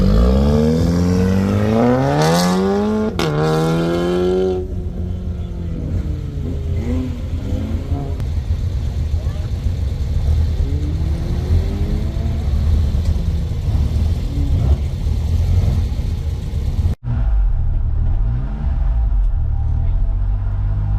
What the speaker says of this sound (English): I got some videos of cars going around in the meantime until it's our turn